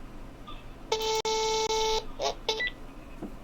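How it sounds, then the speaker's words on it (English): A call-waiting beep sounds on a Google Voice phone line as a clear electronic tone held for about a second, followed by a few shorter, fainter blips. "Wacko says, if you're using Google Voice, get rid of call waiting to get rid of that damn beep."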